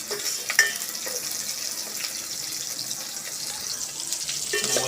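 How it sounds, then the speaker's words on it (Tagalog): Garlic, onion and ginger sautéing in a pan for chicken feet tinola: a steady close sizzle with faint scraping stirs and a small clink early on, no voices. "ginigisa ko na. Yung bawang sibuyas"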